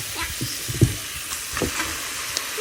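Vegetables and dalia frying in a pan: a steady sizzle with scattered clinks and scrapes of stirring, close by, no voices.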